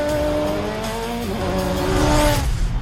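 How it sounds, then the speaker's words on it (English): A Ferrari race car in Need for Speed Shift roars close by, its engine pitch climbing and dropping through gear changes, with a brief tire squeal and no talking. "We'll be driving 10 of the most captivating Ferrari models ever, including the Ferrari California"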